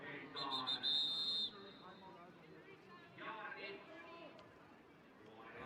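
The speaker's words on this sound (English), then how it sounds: "Had a whistle come in." A referee's whistle at a women's American football championship game gives one sharp, fairly loud blast early on, followed by crowd murmur and a commentator's voice.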